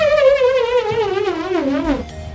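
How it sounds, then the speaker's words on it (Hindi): A hexagonal nut whirls inside an inflated balloon, setting up a loud, close buzzing whine whose pitch slowly sinks as the nut loses speed over about two seconds, then cuts off abruptly. "नट की सतह पर 6 एंगल होने की वजह से बलून जो है काफ़ी तेज़ी से वाइब्रेट करता है और उसमें से मज़ेदार साउंड निकलता है"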